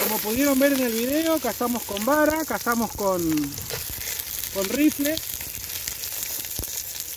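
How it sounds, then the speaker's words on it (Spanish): Partridges sear in melted butter in a pot, giving a steady sizzle and frying hiss under someone speaking Spanish. "le voy a poner las perdices para que se vayan sellando."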